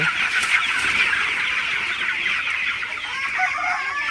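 A flock of broiler chickens on a poultry farm clucks and chatters continuously, a dense, steady chorus of many birds close by with no pauses.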